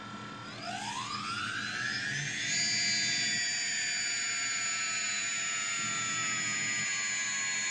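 The electric motor of a small V303/X380 RC helicopter spins up in a throttle test, a whine that climbs steeply in pitch over about two seconds and then holds a steady, loud, close tone without talking.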